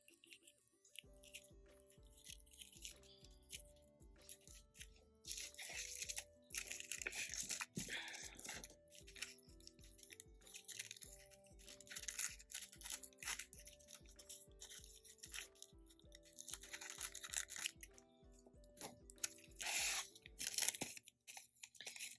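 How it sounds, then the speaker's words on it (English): Scissors snip and crunch through a piece of nail art material in a quiet run of short, faint cuts over several seconds, with soft music underneath. "I just kind of cut it out and then size it up against my nail to see which piece I want"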